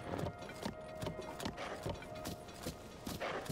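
Horse hooves clip-clop in a steady repeating rhythm while riding in The Legend of Zelda: Tears of the Kingdom, close and fairly loud over a faint background tone.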